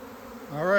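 Swarming honey bees buzz in a steady droning hum that rises in pitch and loudness over under a second, close by.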